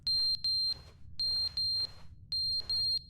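A loud electronic alarm in the video game The Stanley Parable, repeated high pitched beeps in a steady rhythm of paired pulses, with a soft hum underneath.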